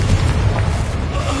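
Confringo fire spell explosion in the video game Hogwarts Legacy, a loud continuous booming rumble heavy in the low end that fills the whole moment without a clear break.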